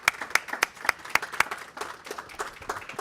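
A small audience at a policy seminar on food systems claps for the speakers: a handful of distinct, fairly close claps at first, then a thinner, softer patter that trails off, quiet overall.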